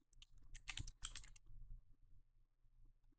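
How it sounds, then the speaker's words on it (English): Quick keystrokes clatter on a computer keyboard in a short, close flurry of typing that fades into faint background noise. "I shouldn't be typing Hunter Biden in my computer."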